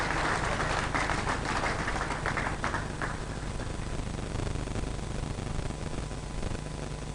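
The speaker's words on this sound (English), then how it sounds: "A round of applause for him." Audience at a 2023 Akwa Ibom State governorship debate applauds a candidate, a dense burst of clapping that fades after a few seconds into a steady murmur of room noise.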